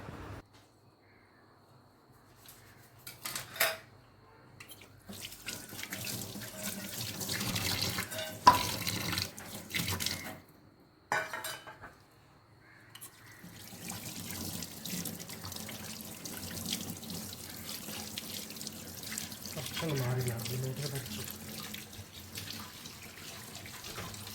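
Running tap water splashes over tilapia fish being washed in a sink, swelling and easing as the flow is handled, with a crow cawing faintly outside.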